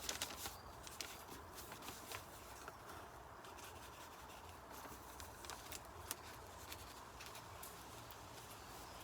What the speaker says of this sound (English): let's gently slice through the tape